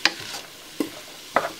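Canned black beans sauté in a pan for jajangmyeon sauce, three distinct spoon scrapes and clacks spaced over a faint background sizzle.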